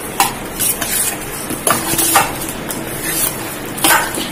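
A bowl of yogurt and semolina being stirred into idli batter, with a spoon scraping and clinking against the bowl in irregular strokes, close up and fairly loud.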